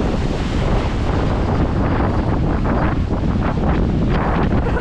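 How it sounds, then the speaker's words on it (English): Strong wind blows across the microphone on a coast in Corfu, a loud, steady roar with gusts and breaking waves underneath, and no voices. "the wind is very strong"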